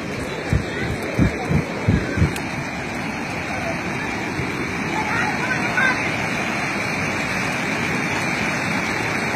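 A mudflow torrent in Bolívar during the 2017 El Niño floods rushes loudly and continuously as it sweeps a truck away, with several sharp thuds near the start and excited voices over the roar.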